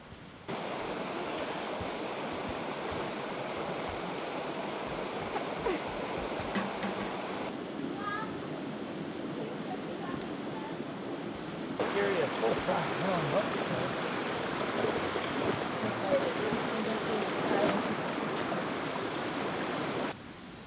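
A river flows in a steady, broadband rush, heard close and continuously for the whole stretch. It swells slightly louder in the later part, with no voices over it.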